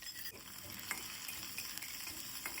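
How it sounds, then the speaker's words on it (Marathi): Mustard seeds, cumin, chili and garlic crackle and sizzle in hot tempering oil, a steady, close frying hiss dotted with small pops and occasional stirring, with no voices. "छान फोडणी तरतरली की त्यानंतर मग थोडीशी हळद घालायची"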